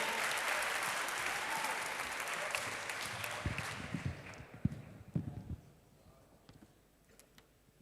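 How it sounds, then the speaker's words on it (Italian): Applause from an audience greeting arriving secondary-school students at a regional remembrance ceremony, loud and dense at first, then thinning into scattered individual claps and fading near the end. "facciamo un bel applauso, ben arrivati."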